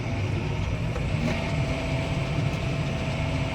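A John Deere 6215R tractor with an MK4 16T Bunning muck spreader hitched behind runs with a loud, steady engine drone close by, holding an even, unbroken tone throughout.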